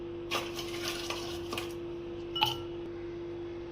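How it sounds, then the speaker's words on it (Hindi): Ice cubes dropped into glasses for a cashew, almond and date drink, with a few sharp clinks and rattles spaced apart, fairly close and light over a quiet background hum. "थोड़ी सी बर्फ़ डालेंगे"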